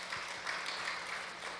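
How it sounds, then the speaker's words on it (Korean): Brief applause breaks out at a church worship service to welcome a visiting guest, a short burst of steady clapping from the congregation. "그래서 이렇게 잠깐 박수로"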